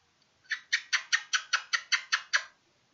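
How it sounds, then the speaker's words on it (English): Kookaburra perched on electric lines, giving a burst of about ten rapid, evenly spaced harsh cackling calls over two seconds, clear and fairly close against quiet surroundings. "a kookaburra on my electric lines, just perched up there"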